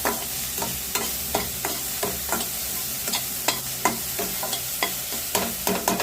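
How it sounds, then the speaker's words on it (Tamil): Onion fries with ground green chili and ginger on a low flame, a constant sizzle broken by regular, rhythmic scrapes of a ladle against the pan, near and clear, with no talking. "கொஞ்சம் நேரம் வறுத்து இப்போ வெங்காயம் ஓரளவு வதங்கிட்டுருக்குங்க"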